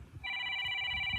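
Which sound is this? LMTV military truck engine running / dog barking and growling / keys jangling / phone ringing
phone ringing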